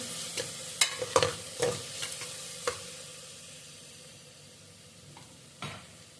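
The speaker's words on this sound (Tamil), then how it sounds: "நல்லா ஃப்ரை பண்ணிக்கிறேங்க." Tomato, onion and a little rock salt fry in a pan, giving a soft steady sizzle broken by several sharp stirring scrapes and clinks in the first seconds, then a quieter simmering hiss with one more stir near the end.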